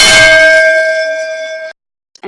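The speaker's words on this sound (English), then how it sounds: "Thinking of the bells of temples" A single bright temple bell strike rings out with a long, steady, singing tone that fades over about two seconds, followed by a faint short tap.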